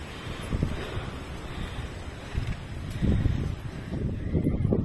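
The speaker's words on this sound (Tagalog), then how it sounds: "Lakas ng hangin, oh." Strong wind buffets the microphone on a mountain hike up to High West peak, a steady broadband roar with gusts swelling louder near the middle and end, no voices.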